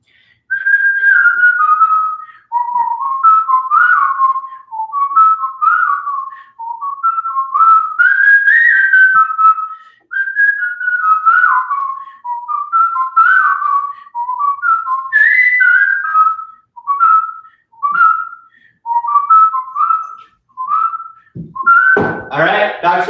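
A person whistles a bright, bouncy song melody, near and loud, in continuous phrases of short notes for about twenty seconds during an at-home shoulder and core workout, with a brief clatter of noise at the very end.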